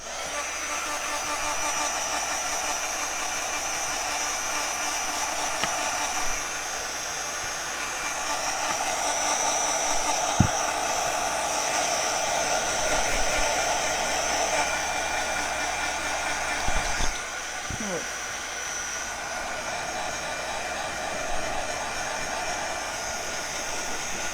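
A hair dryer blows continuously on ceramic tag Christmas ornaments, a loud steady whirring roar held for the whole span with a few faint clicks and knocks underneath.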